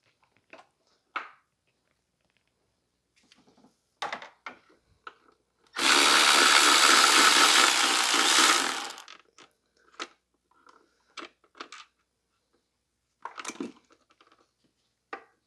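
A power tool, likely an impact wrench, spins off a bolt on the dipstick tube of a 2005 Toyota Corolla in one loud buzzing burst of about three seconds, framed by scattered clinks and taps of tools and metal parts nearby.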